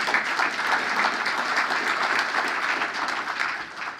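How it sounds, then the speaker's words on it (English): An audience at a Rotary Club luncheon claps in a sustained round of applause that stays loud and even before tapering slightly at the end. "So you deserve a round of applause for yourselves."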